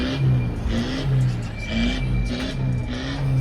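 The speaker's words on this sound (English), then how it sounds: "Your car seems to be making a backfiring noise." An old car engine revs repeatedly in rhythmic surges at a car reunion in Southend-on-Sea, rising and falling several times close by, with rough, popping backfire bursts at the peaks.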